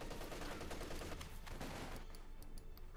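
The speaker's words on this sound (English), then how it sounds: "Highly accurate Sten gunfire there pushing them back." Rapid bursts of Sten submachine gunfire in a fast-paced Company of Heroes 2 battle, dense crackling volleys over background battle noise that thin out toward the end.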